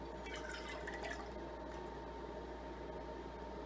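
Liquid is poured into a cup resting on a talking kitchen scale, a faint, brief trickle over steady low background hum, with no voices.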